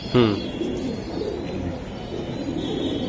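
Racing pigeons of a high-flying line coo softly in a short burst near the start, then a low murmur of birds and faint background noise continues.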